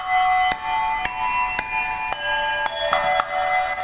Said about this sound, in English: This is the main kind of bell mallet sound.